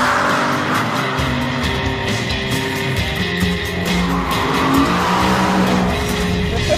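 A BMW M3 E92 gives a loud, sustained engine roar that builds steadily as the car accelerates, with a brief tire squeal partway through and no talking.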